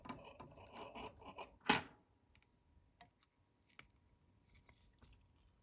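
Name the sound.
scissors cutting a stem while tying a fly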